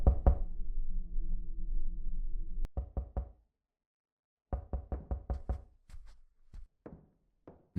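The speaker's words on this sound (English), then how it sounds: "Someone's knocking on the door." In the game Lonely Things, someone knocks on a door: several bursts of sharp, close raps separated by pauses, following a low sustained tone at the start.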